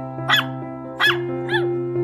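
Small abandoned puppy giving three short, high-pitched yelping barks about half a second apart over a steady low hum, close and clear with no talking.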